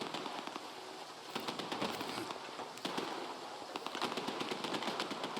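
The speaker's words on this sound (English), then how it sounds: "Oh, they're shooting already." Bandits open fire in the video game S.T.A.L.K.E.R. 2, with rapid bursts of distant-sounding gunfire crackling in repeated volleys, fairly faint and without talk.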